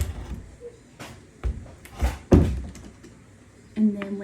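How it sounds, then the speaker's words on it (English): Amazon door lock flipped over by hand, giving a few dull thunks and clicks against the door as it locks and unlocks, close and fairly quiet. "You just pull the side and flip it over and it unlocks the door."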